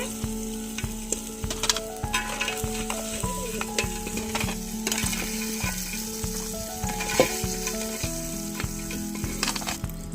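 Crabs fry in oil in a pan for a village-style crab curry, a loud continuous sizzle broken by repeated scraping stirs throughout, with no talk.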